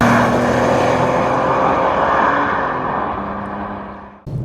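2018 VW Golf GTI Performance (7.5 generation) on new springs driving on the road, steady engine and road roar from inside the car, fading toward the end and then briefly cutting out before a short return.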